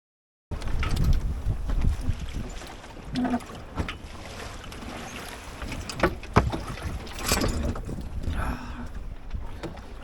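A solo sailboat moves through building swells, with water sloshing and slapping against the hull, gusty wind buffeting the microphone and occasional knocks and creaks close by.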